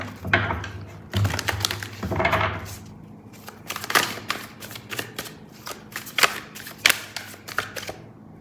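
Tarot cards shuffled and drawn by hand, a quick run of riffling at the start followed by scattered crisp flicks and slaps as cards are laid down, close and fairly quiet.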